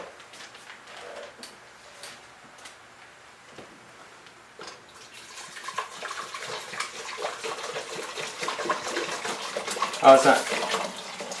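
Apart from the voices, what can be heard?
pouring hot liquid back into pot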